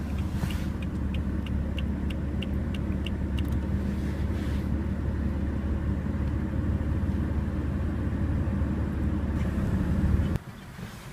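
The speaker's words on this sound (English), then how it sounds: "let's jump into the car, start it up, and see how it sounds" Steady, loud engine drone from a 2017 BMW car, idling evenly for about ten seconds with faint ticking early on, then cutting off abruptly near the end.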